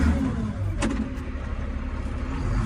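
A 1996 White 6195 tractor with an 18-speed power shift and four-wheel drive, a pre-emissions machine, runs steadily up close in a loud, continuous engine drone with one brief sharp knock early on.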